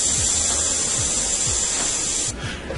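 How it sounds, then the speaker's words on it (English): Steam rushes out of a pressure cooker smoker while smoked sausage cooks, a loud, steady close hiss with a faint rhythmic pulsing underneath, cutting off near the end. "All right, the steam is released."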